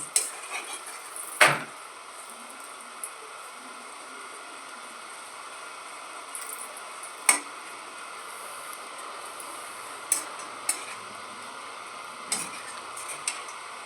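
A tomato paratha fries in hot oil, a steady soft sizzling hiss close by, dotted with occasional sharp pops and crackles.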